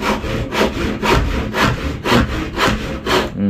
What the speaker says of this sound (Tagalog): matalas po ngayon ang ating lagari